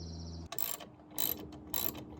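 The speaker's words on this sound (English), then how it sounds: "remove the entire assembly by removing the 4 bolts at the top with the 10mm" A ratchet fitted with a 10mm socket clicks in three quick bursts while loosening grille assembly bolts on a Ford Super Duty truck, close and crisp against a quiet garage hum.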